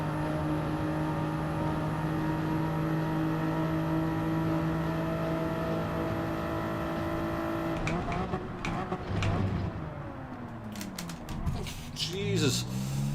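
A Toyota Supra in Gran Turismo 7, in a Group 3 race at Fuji International Speedway, drones at a steady high engine pitch before the note shifts and wavers as it revs through changes, loud and continuous.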